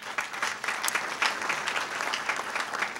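Audience applause at a speech, a short burst of moderate clapping from a crowd, uneven with a few sharper claps standing out, heard on its own without talk.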